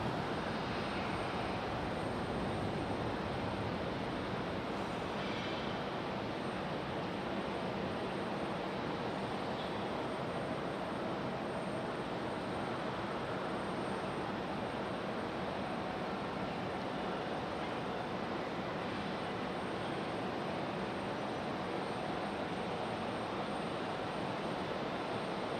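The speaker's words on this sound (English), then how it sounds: "Republic Airways coming in from Chicago O'Hare" A Republic Airways Embraer E175 jet arriving at Raleigh-Durham International from Chicago O'Hare in stormy weather, heard as a steady, fairly faint and distant engine rumble that holds evenly throughout.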